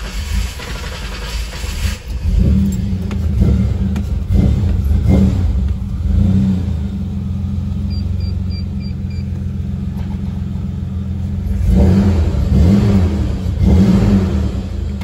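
A 1998 Ford Ranger XLT pickup with a 4.0 V6 gasoline engine starts and revs: a loud, close engine rumble with repeated throttle blips rising and falling, a strong burst near the end, no talk.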